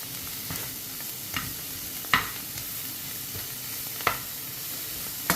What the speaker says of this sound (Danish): Og så rører jeg selvfølgelig lige rundt igen.